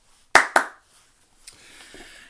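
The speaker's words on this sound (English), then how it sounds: "He clapped his hands." Two sharp hand claps in quick succession, loud and close, followed by quiet room tone and a faint rustle.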